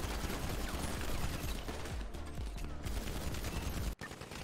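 Dense gunfire in a GTA roleplay game during a SWAT casino vault standoff, a steady rattle of overlapping shots that runs throughout and cuts out briefly near the end.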